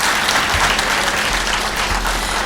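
Steady, close applause from an audience at a Tamil debate-stage speech event, many hands clapping evenly and loudly for the whole short stretch.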